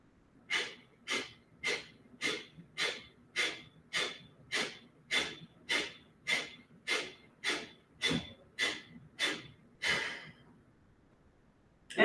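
About sixteen sharp, quick nasal exhalations in a yoga breathing exercise, evenly paced at roughly one every two-thirds of a second, close and clear, ending with a brief pause and a fresh breath.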